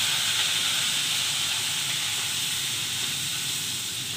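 Cauliflower fries in very hot oil, with a loud, even, hissing sizzle that continues steadily and close by, without pauses or voices.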